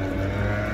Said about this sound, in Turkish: şu an motorun sesi o kadar çok değişik